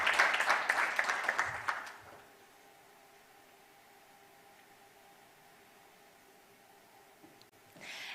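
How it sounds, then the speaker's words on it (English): An audience at an insurtech program event applauds as a CEO comes to the stage: a short burst of close, lively clapping that stops after about two seconds, followed by quiet room tone and a faint return of sound at the end. "A round of applause as she comes."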